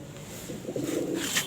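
A pigeon gives soft, low cooing calls close by, a few murmured notes rising over a quiet background hum.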